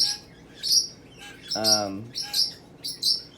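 Pet parrots chirping indoors in a series of short, sharp, bright calls, with one longer harsher squawk in the middle, fairly close and moderately loud.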